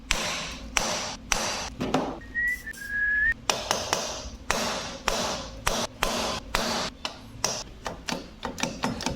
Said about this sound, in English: using this wooden mallet, we will try to strike this area